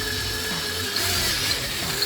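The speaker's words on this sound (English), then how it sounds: "So just going to drill the hole for the controller to go through." A drill boring a hole through plastic on a Jeep Gladiator while installing a Redarc brake controller: a steady, close mechanical whir with a faint high whine, running continuously with no talk.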